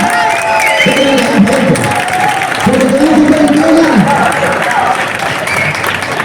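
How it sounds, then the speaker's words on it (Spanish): Crowd at the start of a Christmas street race applauding and cheering steadily, with someone talking loudly in Spanish over the noise throughout. "Vamos a dar un fuerte aplauso"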